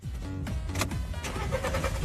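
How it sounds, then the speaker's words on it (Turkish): A car engine is started: a short cranking whir gives way to the engine catching and settling into a steady idle, fairly close and moderately quiet, with no talking. "Arabayı çalıştır."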